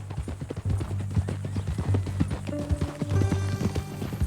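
Horse hooves clip-clop steadily in Red Dead Redemption 2, with rhythmic close hoofbeats under low game ambience and faint music tones joining partway through.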